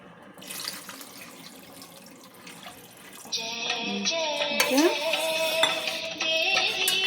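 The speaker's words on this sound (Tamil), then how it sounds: "ஒரு 1/2 டம்ளர் தண்ணி ஊற்று." Water poured into a pot on a lit stove while making semiya upma, a steady splashing stream at close range that builds and brightens over several seconds with faint kitchen clatter.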